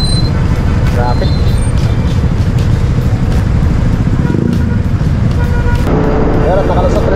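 Road traffic in the Philippines near Calaca, a loud, steady rumble of passing cars, buses and motorcycles close by, with engine noise throughout and talk over it.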